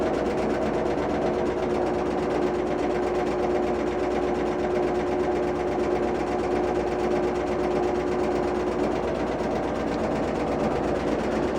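A Whirlpool WTW5057LW top-load washer with a removable agitator runs in its high-speed spin cycle, producing a steady, unbroken motor hum and drum whir with a constant tonal whine.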